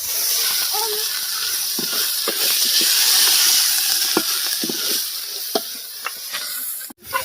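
Ridge gourd dal frying in a pan, a steady close sizzle and hiss with scattered crackles and small pops, ending in a brief clatter.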